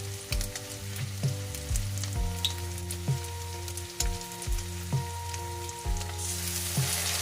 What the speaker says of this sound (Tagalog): Ngayon, maglagay na ako ng soy sauce